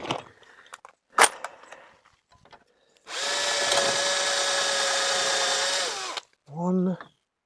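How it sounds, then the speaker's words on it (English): A power drill bores holes in wooden shed cladding in one continuous whirring run of about three seconds, loud and close, framed by a few knocks and clatter before and a short spoken exchange just after. "Drill some little holes."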